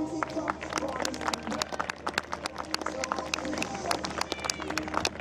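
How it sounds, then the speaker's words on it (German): A crowd claps and cheers at an outdoor monster truck show in Bad Kreuznach, a busy wash of applause with scattered louder claps and background chatter. "Applaus"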